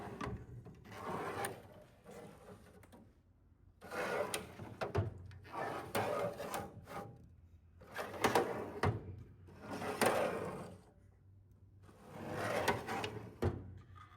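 Worn drawers on a Snap-on KR650 toolbox slide open and shut with grinding, scraping rumbles, about five or six strokes in a steady back-and-forth rhythm, close and fairly quiet.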